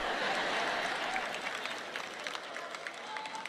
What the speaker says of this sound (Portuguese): Eu não pensei mesmo que haveria muitas pessoas batendo palmas por isso.